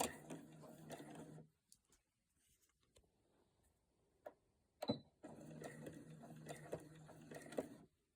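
A sewing machine stitches a pellet-filled cell phone sofa holder in two quiet, even bursts of rapid clatter, separated by a pause with a few small clicks.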